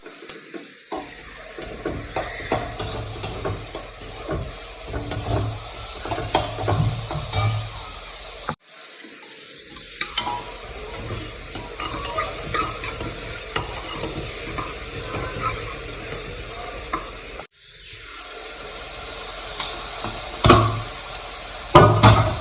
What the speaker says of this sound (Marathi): इथे आता आम्ही चिकन बॉईल करण्यासाठी कांदा फ्राय करायला ठेवतोय